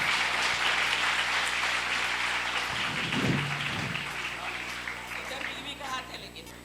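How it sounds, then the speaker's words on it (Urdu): Audience applause at a felicitation ceremony during Bait Bazi 2025 in Aurangabad, India: a continuous hiss of many hands clapping, steady and moderately distant, tapering off near the end as a voice briefly cuts through. "زوردار تالیاں بجائیے"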